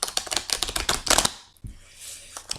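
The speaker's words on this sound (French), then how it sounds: "j'ai besoin de battre bien sûr les cartes" Tarot cards being shuffled, a quick run of crisp riffling clicks for about a second and a half, then a pause and a few softer card taps, close and fairly quiet with no talk.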